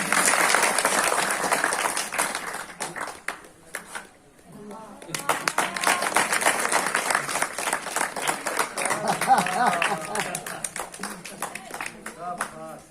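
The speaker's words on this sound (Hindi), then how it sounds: "और जोरदार ताली बजाइए।" An audience at a magic show applauds heavily in a dense wash of clapping that dips briefly, then swells back with cheers and voices mixed in, loud and sustained.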